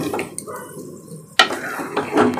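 Mango pickle being stirred in a pan on low heat: scraping and clinking strokes with a sharp knock partway through, over a soft background sizzle.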